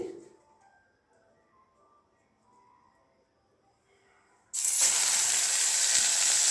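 Tomatoes and garlic hit a hot frying pan with a sudden loud hissing sizzle that stays strong and steady after a quiet stretch with faint kitchen sounds.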